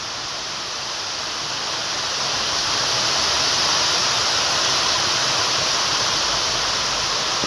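Heavy rain falling and running water in a rural tribal area, a steady loud broadband roar with no breaks, close by and constant throughout, no voices.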